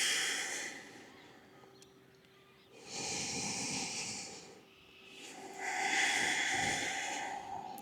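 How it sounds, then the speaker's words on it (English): Long, slow nasal breaths during a morning movement routine, three soft airy hissing phases alternating with quieter gaps, close and calm with no talking. "Long inhales and exhales through the nose."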